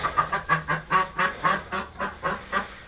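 Ducks on a backyard poultry setup give a run of about a dozen rhythmic, fairly loud nasal honking quacks in quick succession, close by with no talking over them.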